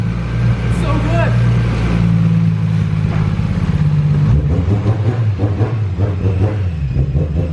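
An RB26-swapped Nissan R33 Skyline engine drones loud and steady from inside the car as it drives, its pitch shifting with throttle, with people talking over the rumble.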